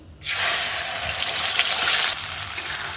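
Onion paste hits hot mustard oil seasoned with nigella seeds, bursting into a loud, steady sizzle that fills the pan for several seconds, easing slightly near the end.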